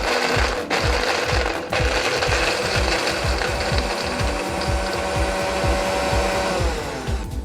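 A blender grinds cashews and walnuts with a little milk, a loud, continuous motor whir with a rapid, rough chopping pulse as the nuts churn, running steadily throughout with no talk.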